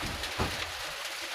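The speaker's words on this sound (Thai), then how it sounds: "ฝนตกพี่น้องเอ้ย" Rain falls outdoors in rural northeastern Thailand, a steady dense hiss of drops on the surroundings, close and continuous.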